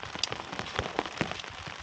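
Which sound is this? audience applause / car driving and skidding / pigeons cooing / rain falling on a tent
rain falling on a tent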